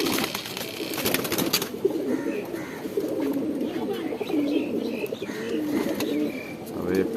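Racing pigeons returned from a tournament coo steadily up close, low rolling calls repeating over a busy loft background with a few faint chirps.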